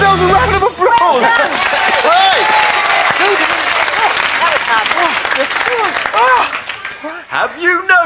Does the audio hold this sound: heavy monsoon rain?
no